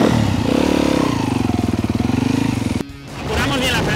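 A Yamaha WR enduro motorcycle on a timed enduro course, its engine loud and close with a rapid pulsing drone, then a sharp drop as the rider backs off and brakes before the engine picks up again.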